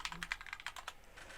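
Quick bursts of keystrokes on a computer keyboard as notes are typed, a faint close clatter of about a dozen key presses that trails into quieter tapping.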